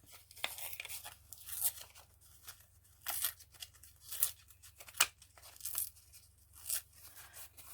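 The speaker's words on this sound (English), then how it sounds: "Let me tear this off" A sheet of paper is torn off, with a series of short crisp ripping bursts at irregular intervals, close and fairly quiet, with no talking.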